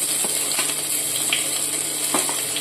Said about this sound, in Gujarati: તેલ ગરમ થઈ ગયું છે હવે આપણે ડુંગળી નાખીશું આમાં